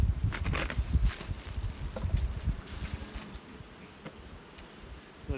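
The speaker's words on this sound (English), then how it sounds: "This top box is definitely full of bees." Honey bees buzzing inside a crowded hive top box during a nectar flow, a soft, steady drone with faint rustling and scattered small knocks throughout, fairly quiet and close.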